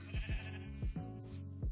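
Sheep bleat in a farm setting, several short overlapping calls in quick succession, moderately close against a steady background hum.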